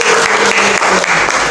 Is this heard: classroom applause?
yes